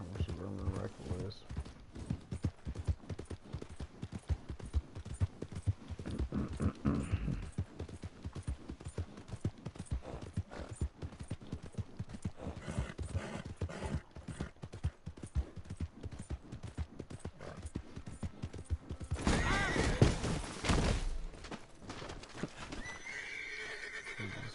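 Horse hooves clip-clop steadily through a Red Dead Redemption 2 ride, with occasional whinnies and game ambience, while a player talks over the rhythmic footfalls.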